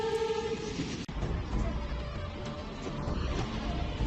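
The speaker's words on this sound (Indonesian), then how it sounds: "Anan dan Samsul pergi ke Rediarpati menaiki kereta dan bis." Steady rumbling train noise with a constant mechanical drone and rattling, fairly loud and continuous throughout, no voices.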